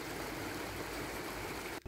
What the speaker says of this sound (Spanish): Aquí en el camino nos encontramos el río de Chatipán, también que tiene un poquito de agua.